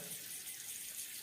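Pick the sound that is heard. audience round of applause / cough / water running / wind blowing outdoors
water running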